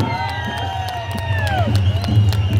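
A large crowd at a rally claps and cheers to welcome a party leader, a steady roar of applause, while a loud voice carries over it with long sliding tones.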